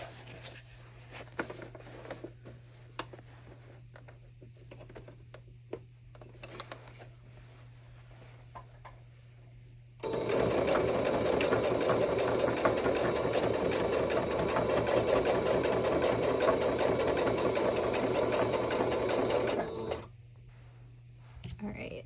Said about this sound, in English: I'm just going to zigzag over it and get that all sewn together